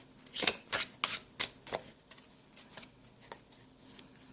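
A deck of playing cards being riffle-shuffled, several crisp fluttering bursts close up in quick succession, then softer taps and shuffling as the cards settle, with no talk.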